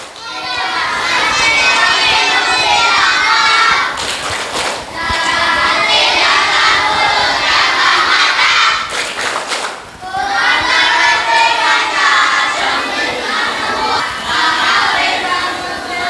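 A group of boys performs a rhythmic clapping chant at an Islamic boarding school holiday program in a mosque, with loud massed voices and hand claps in repeated bursts separated by brief pauses.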